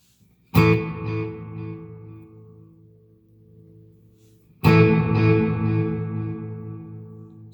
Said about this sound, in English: the fourth one is reverb with delay